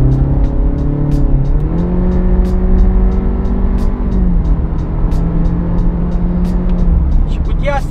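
A Honda Civic with a CVT, taken off Eco mode, accelerates hard on kickdown from 50 km/h, engine note rising in steps as if shifting gears, loud and continuous inside the cabin with road noise beneath.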